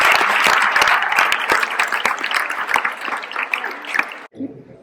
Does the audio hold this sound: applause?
yes